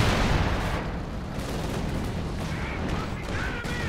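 Dense, loud gunfire from a volley of shots in the Company of Heroes 2 World War II strategy game, a continuous crackling, booming wash of battle noise throughout.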